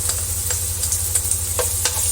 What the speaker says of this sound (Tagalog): Lagyan ng konting mantika para sa paggisa. Lagyan natin ng sibuyas